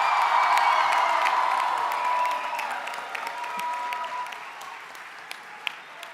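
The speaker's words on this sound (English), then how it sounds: "Can I hear a loud cheer?" A crowd cheers and applauds at the HMUN 2026 closing ceremony, loud whoops and clapping up front that gradually thin and fade toward scattered claps.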